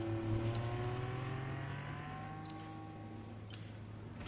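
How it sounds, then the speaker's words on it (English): A Formula-style race car in a video game does burnouts on wet runoff at the Shanghai circuit. A sustained engine whine holds and slowly shifts pitch at moderate distance, with no talk. "Silver is just doing burnouts right now in the runoff."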